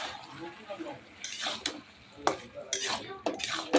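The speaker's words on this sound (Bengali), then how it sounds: "নাড়িয়ে দিই।" Potatoes with green chili and poppy seed paste stirred in a pan, giving irregular scraping and clinking bursts of utensil against metal with short pauses between strokes, close and moderately loud.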